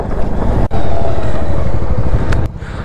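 A motorcycle engine drones steadily up close while riding, with a brief dropout early on and a clatter near the end.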